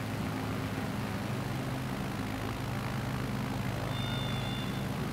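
Aircraft engine in Microsoft Flight Simulator held at a steady, loud, droning hum with a low rumble, continuous for several seconds with no speech.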